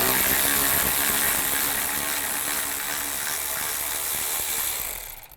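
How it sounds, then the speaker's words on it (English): A ratchet with a 10mm socket backs out bolts on a 2005-15 Nissan Xterra during a drive belt job. Rapid, steady mechanical clicking runs close and loud for about five seconds, then stops abruptly. "Take these 2 bolts out right here, the 10mm. Use a 10mm socket."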